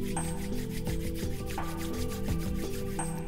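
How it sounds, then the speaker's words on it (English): Dry palms rub briskly against each other in a quiet yoga and meditation session, a steady rhythmic swishing friction of short repeated strokes close to the microphone, with no talking. "rub your hands into each other"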